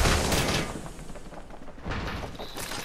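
Gunfire in the video game Apex Legends, a dense spray of rapid shots at moderate level with a short lull, then a fresh burst near the end.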